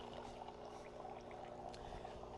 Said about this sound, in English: you can see it's dispensing the water for us automatically